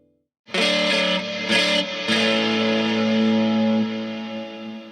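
Electric guitar, a Gibson L-5S, played through a 1981 DRV overdrive pedal set to its lowest gain: a sustained, lightly driven chord rings out loud and close, with a couple of restrikes and no talking.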